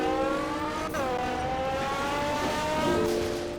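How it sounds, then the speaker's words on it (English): An engine note from a Ford Fiesta drag racing in the Roblox video game revs loudly and steadily, drops briefly at a gear change, then climbs again under hard acceleration. "let's go ahead and begin drag racing"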